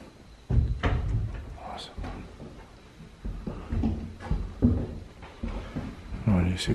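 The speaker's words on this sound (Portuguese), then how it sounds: "Encosta a porta ali, Jefinho." Door of a room being pushed shut, giving a few dull wooden knocks and thumps amid shuffling and handling noises, nearby and mixed with people talking.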